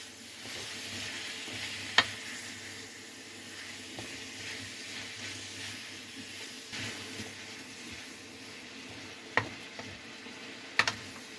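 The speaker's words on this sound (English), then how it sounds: "let's fry this up." Beef seasoned with adobo fries with vegetables in a pan, making a soft continuous sizzle with occasional stirring scrapes and a few sharp clinks of a utensil against the pan.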